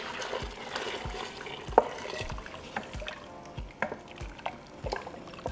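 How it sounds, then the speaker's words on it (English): Hot water poured into a pot of spices while cooking ribs and beans, a running liquid splash with irregular clinks and knocks of the pot and utensils, fairly quiet and close. "we're going to add 8 cups of hot water"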